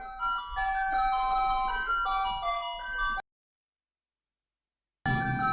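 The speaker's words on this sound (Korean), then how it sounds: "갑자기 종이 치고 있습니다." A bell chime rings out a sustained, tuneful melody of clear tones, moderately loud, breaks off into silence for about two seconds, then starts up again.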